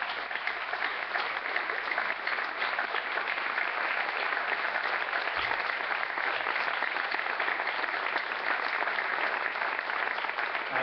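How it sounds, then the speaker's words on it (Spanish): Steady audience applause fills a book presentation hall in Buenos Aires, dense continuous clapping at even loudness throughout, with no voices rising above it. "quiero mandar un aplauso"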